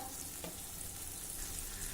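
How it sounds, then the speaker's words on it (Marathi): Drumsticks shallow-fry in oil on a flat tawa, producing a faint, steady crackling sizzle with no other sounds. "तुम्ही या प्रकारे तव्यावर ह्या तेलातच भाजून घ्या"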